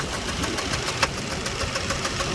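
A 2004 Jeep Liberty Renegade engine runs with a steady rapid clacking tick from the valvetrain, caused by a dropped rocker arm from a collapsed lifter, close by, over a broad mechanical hiss.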